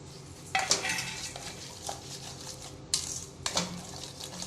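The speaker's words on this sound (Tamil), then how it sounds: "நல்லா மிக்ஸ் பண்ணிக்கோங்க. சர்க்கரையை போட்டுக்கோங்க." A bread halwa mixture with sugar being stirred in a pan, giving a few sharp utensil scrapes and clinks against the metal over a faint background hiss, close and intermittent.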